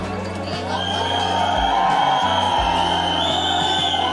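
A crowd cheers and whoops at the Deva trailer launch for Shahid Kapoor and Pooja Hegde, with loud, sustained roaring, a thudding music beat underneath and a brief drop in the bass midway.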